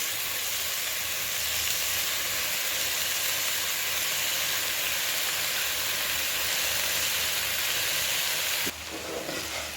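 Egg fried rice with vegetables stir-fried in a hot pan makes a loud, continuous dense sizzle and hiss, close up and unbroken, with a brief scrape near the end.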